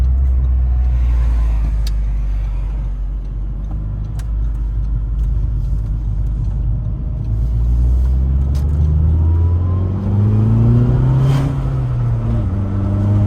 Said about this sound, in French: Le bruit du turbo, il est incroyable.